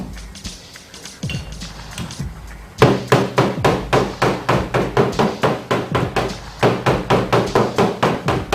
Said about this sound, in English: Hammer around up here at the top where it'll stay out.